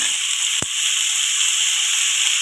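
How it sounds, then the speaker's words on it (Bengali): Mixed vegetables for a Bengali-style niramish dish, potato, carrot and cauliflower, fry in a hot pan with a steady, loud hiss and sizzle, broken once by a short sharp knock of the stirring spoon. "সুন্দর করে এটা নেড়ে চেড়ে ভেজে নেব"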